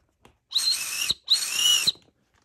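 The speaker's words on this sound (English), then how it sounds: "Let's try to blow this whistle right here." A small whistle on a Salehe Bembury x New Balance 574 sneaker is blown twice at close range, two shrill, breathy half-second blasts with a short gap between them, alone in a quiet room.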